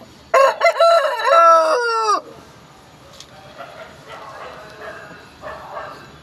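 A one-year-old, three-kilogram fighting rooster in Nellore lets out one loud, close crow that rises and holds for about two seconds, then breaks off into quieter background murmur and faint farmyard noise.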